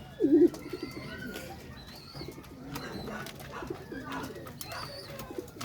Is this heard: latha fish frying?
no